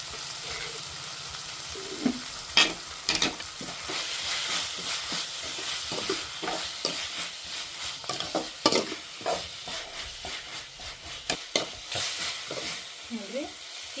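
Vegetable curry with soaked chana dal fries in a pan in a village kitchen, a soft steady sizzle broken by repeated scraping clinks of a spoon stirring through the pieces, close and without speech.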